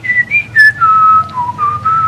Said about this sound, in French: il ne faut pas siffler.